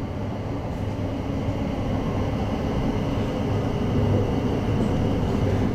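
Heard from on board, a South Western Railway Class 707 train arrives into Clapham with a steady low rumble and rolling rail noise that stays even and fairly loud.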